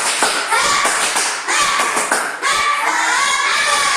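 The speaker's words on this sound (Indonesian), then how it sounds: "Tepuk semangat dulu. Tepuk semangat." A classroom group claps along to a spirit-building chant, loud brisk bursts of many hands in uneven rhythmic clusters with brief pauses between them, close and filling the room.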